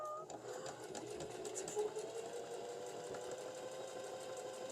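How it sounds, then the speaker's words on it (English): A sewing machine stitches along a pant hem, a fast steady whirring hum with a faint mechanical tick running evenly through the whole stretch, close and fairly quiet. "So I'm going to keep mine to the left and then sew along the hem here."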